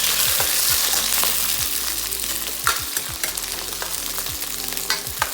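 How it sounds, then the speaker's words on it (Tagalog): Shrimp stir-fried in oil in a wok for egg fried rice: a loud, steady sizzle runs throughout, broken by repeated scraping stirs of the spatula, with no talking. "Okay, una natin piprituhin syempre yung shrimp. Stir fry na natin ito na saglit."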